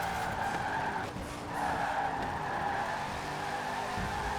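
A Mosler car drives in Forza Horizon 4 on drying roads, its engine holding a steady high whine with tire squeal and skidding texture, close and continuous.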